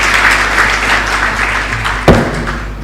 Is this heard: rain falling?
no